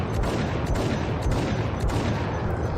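Dense gunfire from the Max Payne video game fills the stretch, with rapid overlapping shots forming a loud, continuous volley and no speech.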